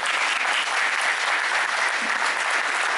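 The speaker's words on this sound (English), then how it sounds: "a big round of applause to Shane" An audience at a fan convention Q&A with actor Shane Rimmer, the voice of Scott Tracy in Thunderbirds, gives him a sustained, even round of applause, dense clapping filling the room without a break.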